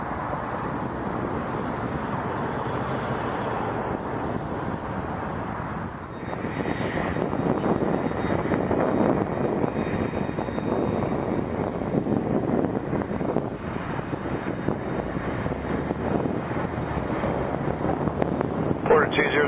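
A fixed-wing airliner taxis at Toronto Pearson Airport, a steady broad engine roar that swells slightly midway and holds, with faint wind noise.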